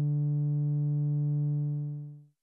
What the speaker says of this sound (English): we'll leave operator 3 at being a sawtooth wave